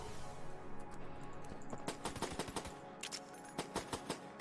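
Rapid repeated shots from a laser rifle in the video game Enter the Gungeon, a quick rhythmic string of sharp pulses, moderately quiet and alone.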